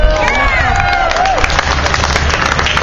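Outdoor political rally crowd in Orlando, cheering and shouting in a dense, steady roar from many voices, with a few whistle-like calls rising near the start.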